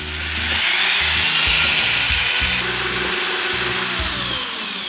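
A power drill with a mixing paddle whirs steadily as it stirs epoxy resin for a van countertop, a loud, close motor whine with scraping and knocking of the paddle in the bucket, continuous for several seconds.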